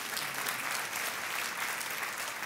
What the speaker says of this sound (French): Si vous applaudissez, applaudissez pour de vrai